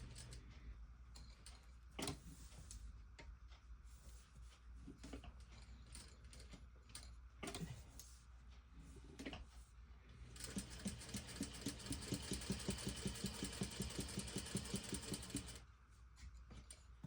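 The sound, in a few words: sewing machine stitching a crossbody bag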